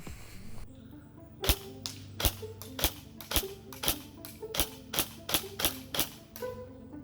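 A G&G SSG-1 USR airsoft electric gun firing 0.2 gram BBs indoors, about a dozen sharp, loud, evenly spaced shots over a low background hum.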